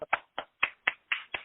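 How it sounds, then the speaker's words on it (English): A single person clapping alone, six sharp close claps in a steady quick rhythm with brief silences between them and no other sound. "I love how I'm clapping by myself in a conference"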